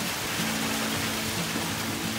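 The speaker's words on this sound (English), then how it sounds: "and literally we have a quarter inch of hail on the ground" Hail falls steadily outside beside a Weber grill during outdoor cooking, a dense continuous hiss of ice pellets with no distinct individual hits, fairly quiet.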